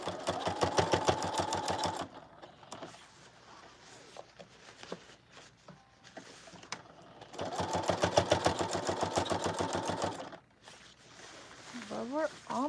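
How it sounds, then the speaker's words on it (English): A sewing machine top-stitches a curved serged seam on a puffer jacket purse in two loud bursts of rapid, even stitching, with quieter handling and adjusting sounds between them. "Again, just top stitching that serge."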